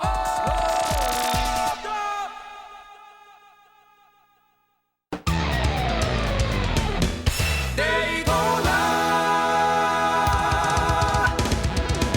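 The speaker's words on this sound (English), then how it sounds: "you get to hear a short little ditty signaling the end of the race" A short bright race-finish jingle from the video game Daytona USA (2001) plays loud, fades out into brief silence, then a new melodic electronic passage bursts in and continues.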